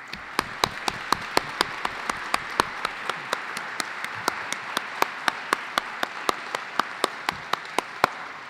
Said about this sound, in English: I'd ask you in the audience to join me in applauding our panel.